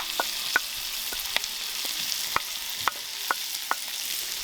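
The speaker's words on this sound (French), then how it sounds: "Fait que je fais brûler mes oignons dans le beurre." Onions frying in butter in a pan give a steady close sizzle and hiss, with sharp pops and spatters at irregular intervals, no talking.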